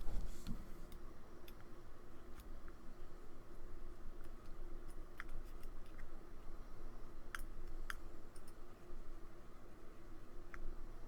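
Scissors snip cotton wick on a Serpent SMM rebuildable tank atomizer, leaving sharp isolated clicks spaced unevenly over a quiet hiss, close to the microphone.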